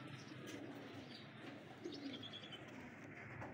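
Pigeons in a home loft coo in a low, continuous murmur that holds steady throughout, with a few faint chirps on top and no voices.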